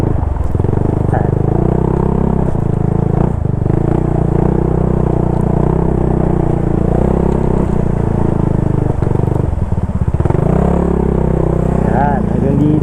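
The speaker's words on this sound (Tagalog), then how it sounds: "pasok lang natin yung motor natin hanggang dito sa may gate." A motorcycle engine runs steadily up close as the rider eases it along a path toward a gate near a roadside waterfall, its low drone continuous throughout with a slight rise in revs near the end.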